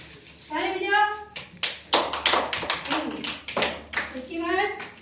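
Children clap hands at a birthday-themed class activity, a burst of loud, rapid claps in the middle framed by an adult's speech before and after.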